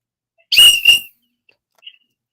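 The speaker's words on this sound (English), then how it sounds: "just blew the final whistle" A single loud, close whistle blast of about half a second marks the final whistle of a college football game, followed by near silence and one faint, brief chirp.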